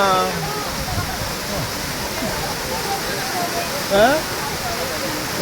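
Masila waterfall in the Kolli Hills sends down a constant loud rushing roar of falling water, with voices and brief bits of talk from bathers heard over it.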